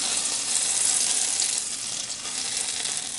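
Butter sizzling and crackling steadily in a hot pan for a salmon omelette, a dense continuous hiss that holds loud throughout and eases slightly partway through, with no voices.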